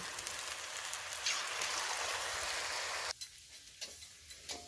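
Semolina pitha fry in hot oil with a dense, steady, close sizzle that suddenly drops to a quieter crackle with a few scattered pops.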